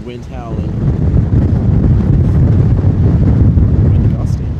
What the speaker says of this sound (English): Wind howling.